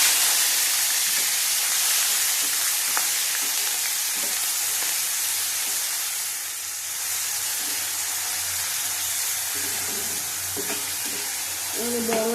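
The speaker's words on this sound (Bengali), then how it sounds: "ভালো করে ভেজে নেবো। পেঁয়াজ আর লঙ্কা দিয়ে দেবো।" Onion and chili frying in oil in a pan over lowered heat, a continuous loud sizzle and hiss with occasional light utensil taps near the end.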